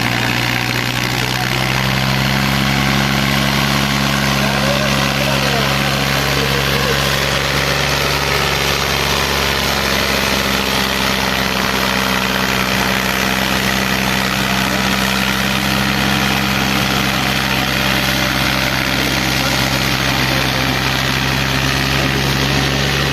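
A 1979 Fiat 480 tractor engine idles steadily and loudly, a continuous low rumbling drone with vibration that holds unchanged throughout, with no talking over it.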